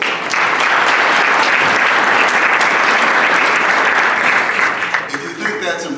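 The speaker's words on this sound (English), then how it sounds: "That deserves applause right there." Loud, full applause from the audience at a Rotary club meeting, a dense sustained clapping that holds steady and begins to thin out near the end as voices come in.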